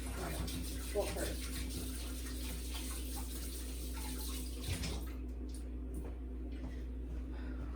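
Hands washing under running tap water in a kitchen: a steady, close rush of water with low hum and faint splashing, easing toward the end.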